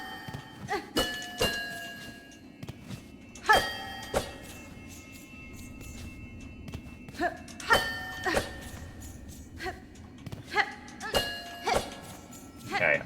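Faint ringing bells in the video game Silksong, a series of short chiming tones scattered irregularly over a quiet, low ambient background.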